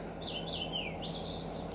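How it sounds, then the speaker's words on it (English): A bird chirps a few quick, high, twittering notes, faint over a steady low background hum. "If you can hear birds in the background"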